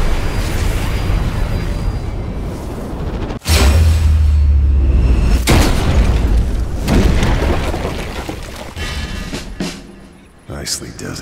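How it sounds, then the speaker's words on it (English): A loud sniper rifle shot booms from the Sniper Elite 4 video game, a single heavy blast followed by a rolling decay, with game ambience around it. "Need my rifle to make that shot."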